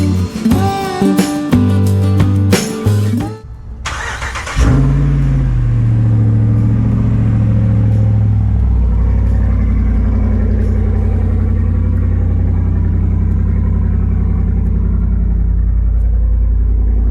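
A Ram Rebel pickup truck starts up and pulls onto the road, followed by a steady, loud low engine rumble and road noise that continues evenly after a few seconds of other sound at the start.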